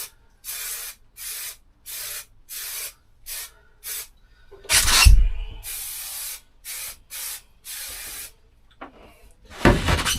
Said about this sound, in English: we're going to get that one stuffed in there now with some more spray adhesive